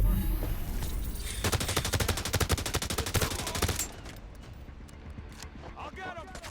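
Rapid automatic gunfire from the mobile shooter game Division Resurgence, a dense loud volley of shots that stops after a few seconds, followed by sporadic pops and voices talking over the combat.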